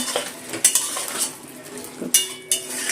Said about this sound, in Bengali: চিনি আর কাঁচা লঙ্কাটা একটু মিশিয়ে নেব।